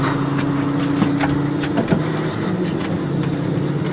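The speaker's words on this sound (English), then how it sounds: "We'll start our tractor right now." A tractor engine idles steadily up close, a low mechanical rumble with a brief surge and a few clanks near the middle as it runs alone.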